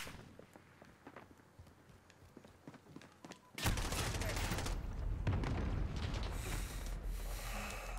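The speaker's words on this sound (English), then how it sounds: "That's a crazy gun to be shooting with." Gunfire in Call of Duty Modern Warfare, scattered light clicks and shots, then a sudden dense, continuous burst of rapid automatic fire, loud and close, with a voice talking faintly beneath.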